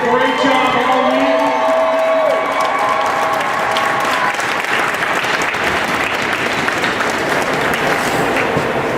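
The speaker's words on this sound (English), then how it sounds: "How about another great round of applause for both of these teams?" A crowd applauds two youth hockey teams at a squirt-level tournament rink, loud continuous clapping with some cheering and whoops, an announcer's voice briefly heard at the start.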